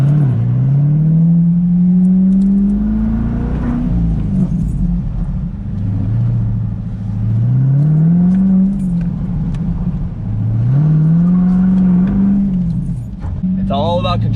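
Corvette C8 engine revving with a deep, mellow, low rumble that rises and falls in long repeated swells, loud and close, with someone talking over it.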